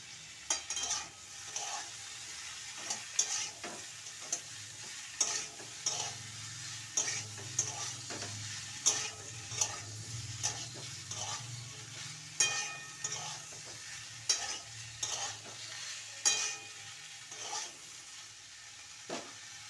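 A paste of ginger, cumin, garlic and green chili fries in a pan over a gas flame with a faint, steady sizzle, broken by periodic scraping taps from stirring.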